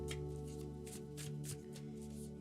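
A deck of tarot cards is shuffled in several quick riffling bursts, quiet and close, over a steady low background hum.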